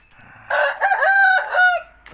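A farm rooster crows once, loud and close: a drawn-out cock-a-doodle-doo of about one and a half seconds, preceded by faint clucking from nearby chickens.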